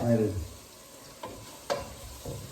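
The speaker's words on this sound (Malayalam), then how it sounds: "കറിവേപ്പില ഇടട്ടെ" Curry leaves hit hot oil for a chicken curry, giving a soft background sizzle with a brief crackle at the start and a few sharp spatters and stirring clicks, fairly quiet and close.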